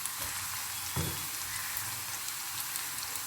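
Sliced onion and green chillies fry in a pan for spring onion thoran, giving a steady close sizzle with a brief stirring bump near the start and no talking.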